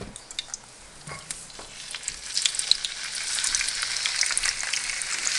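Oil sizzles steadily in a hot pan, ahead of a vegetable mixture for zigeunerschnitzel, with scattered sharp pops crackling through and the hiss growing louder and denser toward the end.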